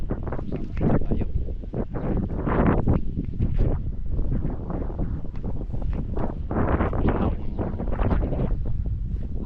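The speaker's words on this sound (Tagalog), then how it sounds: "Hangin dito" Gusty wind blows across an outdoor water spinach field, buffeting the microphone in steady, loud rushes throughout.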